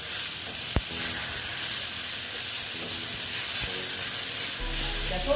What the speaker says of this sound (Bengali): মশলার মধ্যে শুধু একটু জিরে গুঁড়ো দিচ্ছি, বেশি না, একদম একটু দিয়ে এটাকে আমি একটু এটা করে ভেজে নিচ্ছি